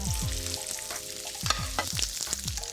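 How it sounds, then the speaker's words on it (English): A salted pork joint sears in hot oil in a pan, giving a steady, moderate sizzle without heavy spitting, with a few low knocks and scrapes as the meat is moved. "you can hear a very lovely searing"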